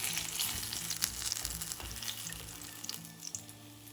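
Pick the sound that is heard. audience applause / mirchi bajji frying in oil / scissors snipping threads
mirchi bajji frying in oil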